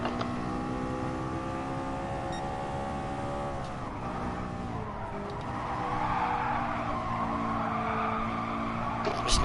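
A Nissan Nismo race car in a driving game howls along with a steady engine drone, and a hissing tire skid swells through the turn, loud and close, with no voices.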